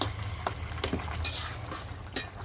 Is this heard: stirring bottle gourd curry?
yes